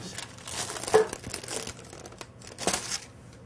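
Parchment paper crinkles and rustles for brownie baking, several close, loud bursts of crackling handling spread over a few seconds, with no talking.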